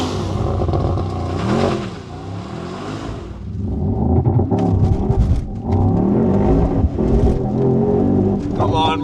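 A Mercedes-AMG V8 car launches on wet pavement, its engine surging loud, easing off, then surging again in uneven bursts of revving, close by, with talk over parts of it.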